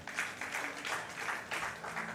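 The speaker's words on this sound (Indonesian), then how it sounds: "Yang rindu berikan tepuk tangan buat Tuhan." Church congregation applauding during a Pentecostal sermon, a moderately faint wash of clapping arriving in rhythmic swells, roughly in pulses, with a low hum beneath.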